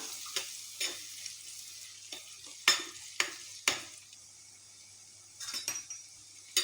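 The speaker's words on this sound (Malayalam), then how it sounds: "എണ്ണ നല്ലപോലെ ചൂടായി വന്നിട്ടുണ്ട് ഇനി നമുക്ക് എടുത്തു വെച്ചേക്കുന്ന ഇഞ്ചിയും വെളുത്തുള്ളിയും ചെറിയ ഉള്ളിയും എല്ലാം ചേർത്ത് കൊടുക്കാമേ ഇനി ഇത് നല്ലപോലെ വഴറ്റിയെടുക്കണം" Ginger, garlic and small shallots sautéing in hot oil for a Kerala-style tuna curry, with a quiet sizzle beneath repeated sharp scrapes and taps of a spatula against the pan, some in quick clusters.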